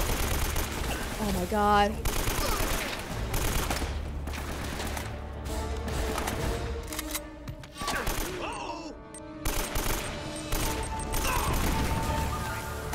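Rapid gunfire and bursts of shooting in Uncharted: Drake's Fortune, dense and continuous with short gaps, while someone speaks over the shots.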